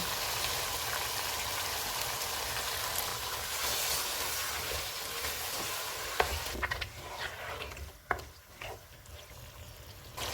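Beef sizzles and fries in a pan as half a cup of tomato puree goes in, with steady hiss, stirring scrapes and a few sharp clicks toward the end.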